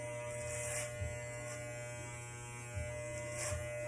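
Electric hair clippers fitted with a 1.5 guard cutting hair during a self haircut, a steady close buzz with a few brief louder swells as the clippers pass.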